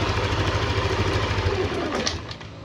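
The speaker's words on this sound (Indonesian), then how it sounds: "Jika ini kita matikan, motor juga akan ikut mati Mas" A Yamaha fuel-injected motorcycle engine idles with a steady low rumble, then cuts out near the end as the running sound fades away.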